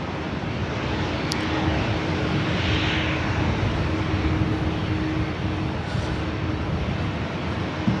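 An airplane at LAX airport gives a continuous, broad engine roar that holds steady for several seconds, loud and unbroken, with no voices.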